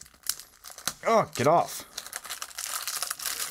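Tape peels and crinkles off a box holding MoYu WeiPo and ShengShou Legend puzzle cubes, with close, rasping tearing bursts over a person's brief spoken exclamation.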